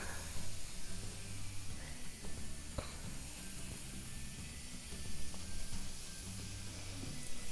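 Steam hisses steadily and close from a waffle maker cooking a pumpkin spice chicken waffle, a broad constant rush with faint clicks and rattles underneath.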